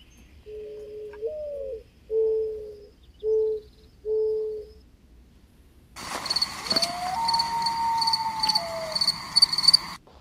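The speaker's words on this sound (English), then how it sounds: "I think there's a higher pitched sound that might be a cricket and then maybe a loon at lower frequencies" A recording mixes a common loon's drawn-out wavering wail with crickets chirping in a steady high trill. Short hooting calls come first, then the insect buzz and the long mournful call sound together, with no voices.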